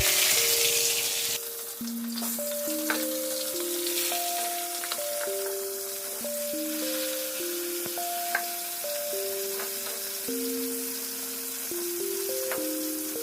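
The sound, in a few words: hilsa fish frying in oil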